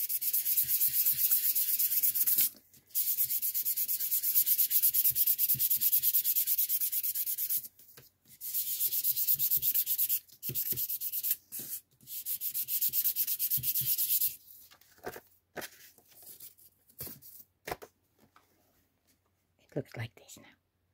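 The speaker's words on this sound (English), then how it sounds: "I'm gonna take my nail file and I'm just gonna sand my acetate" A nail file sands an acetate sheet with steady, close scratchy rubbing in long continuous strokes, breaking into shorter intermittent rubs toward the end.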